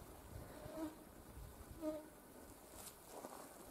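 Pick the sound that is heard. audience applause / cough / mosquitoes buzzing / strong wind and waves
mosquitoes buzzing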